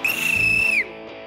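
A single shrill referee-style whistle blast rings out loud and close for just under a second, then cuts off sharply into quiet.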